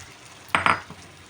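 Spiced bok choy stirred in a pan, two quick scraping clatters of a utensil against the metal, followed by a faint third scrape over a low background.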